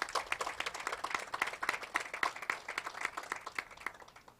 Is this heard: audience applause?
yes